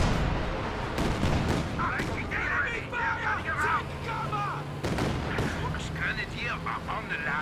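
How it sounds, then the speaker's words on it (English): Katyusha rocket artillery pounds an area in a World War II strategy video game, a rapid series of sharp, loud booms and crackling impacts rolling on under a commentator's voice. "Katyusha bombarding this area."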